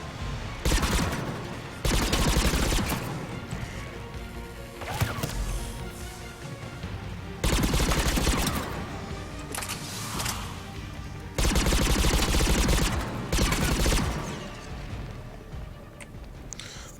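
Gunfire in Mass Effect 3 comes in repeated loud bursts, each a dense volley of shots and booms followed by short, quieter lulls.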